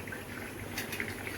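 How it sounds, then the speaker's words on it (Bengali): A pot of gourd curry bubbles softly as fish is added, giving a faint close burble of liquid with light splashy gurgles, brief and low in level. "এখন আমি মাছটা দিয়ে দিব।"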